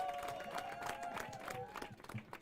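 Audience applause at a quiz night, a steady wash of claps mixed with crowd noise and voices, with a sustained tonal hum running beneath, fading slightly toward the end.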